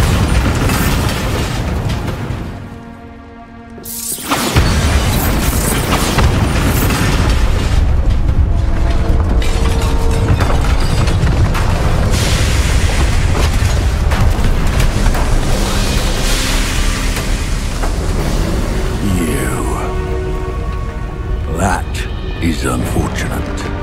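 Bombarda spell explosion in the video game Hogwarts Legacy, a loud boom after a brief lull, then a sustained rumbling, clattering game soundscape with mechanical and debris noise.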